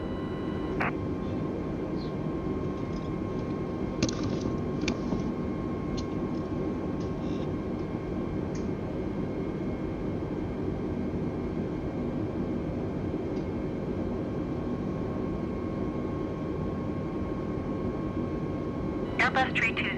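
Airbus A320 engines in MS Flight Simulator make a steady low drone through the whole stretch, with a faint tonal whine over it and an occasional click, while radio voices talk over the top.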